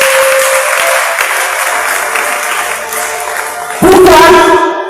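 A church congregation applauding and cheering, with sustained loud clapping and voices throughout that swells into an even louder burst near the end.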